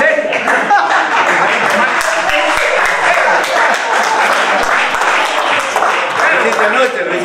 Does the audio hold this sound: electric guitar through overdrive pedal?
no